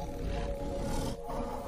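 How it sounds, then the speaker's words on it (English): A tiger, one of the world's biggest cats, in the dense tropical jungle of India, gives a deep, loud, sustained roar with a brief dip partway through and no talk over it. "Prowling ground of the tiger, one of the world's biggest cats."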